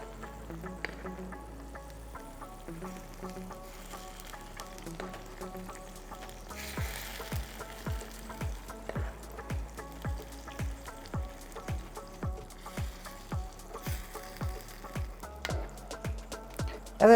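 Tomato sauce bubbling and sizzling over meatballs in a hot clay baking pan, a soft crackle with a run of regular popping bursts growing more pronounced toward the end.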